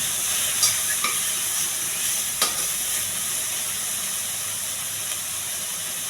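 Mushrooms fry in a pan with ginger-garlic paste, giving a steady hiss and sizzle with a few sharp clicks of stirring scattered through.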